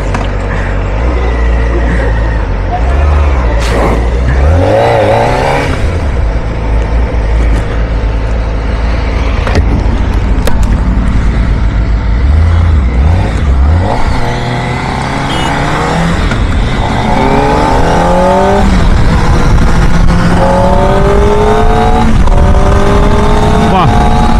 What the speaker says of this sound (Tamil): ஸோ கைஸ் ZX4RR ஓட்ட போகிறேன்.